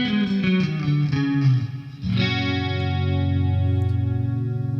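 Electric guitar played through a Boss Katana MK2 amp with chorus effect: a few shimmering notes, then a sustained warbling chord ringing out steadily, with no one talking.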